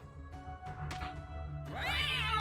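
A short cat yowl sounds in Guild of Dungeoneering as a cat is thrown as an attack, rising and bending near the end after a few soft game clicks, with no talking.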